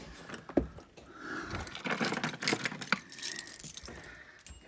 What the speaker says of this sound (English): Get my keys.